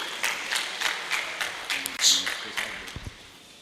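A modest audience at a teachers' award ceremony claps for an honoree, scattered irregular claps with some louder individual hits.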